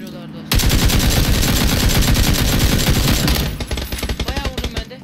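PUBG battle gunfire: loud, dense, rapid shots crackle nonstop at close range for several seconds, then break into separate pulsing bursts before stopping.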